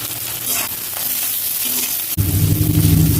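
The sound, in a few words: onions, curry leaves and tomatoes sautéing in oil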